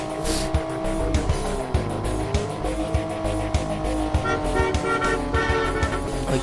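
A car horn honks in a driving video game, short toots over a steady engine drone with tire squeal and racing car noise filling the background.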